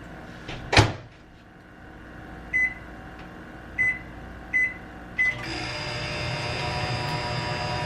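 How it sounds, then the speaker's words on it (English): A microwave oven heating a beef patty: a sharp clunk of the door, several short beeps from the keypad, then the steady loud hum of the oven running, with no voices. "you're gonna pop that beef patty in the microwave for 1 minute and 30 seconds."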